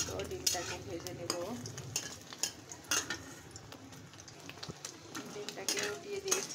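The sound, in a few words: egg frying in hot oil in a pan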